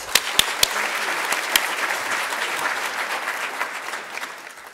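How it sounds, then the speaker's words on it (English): Conference audience clapping for a plenary speaker, a dense steady round of applause from a sizeable crowd with a few sharp close claps at the start, no talking. "let's give her a hearty warm applause"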